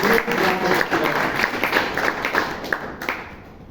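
A room full of people at a Toastmasters meeting applauding, dense clapping that stays steady and then gradually thins out toward the end.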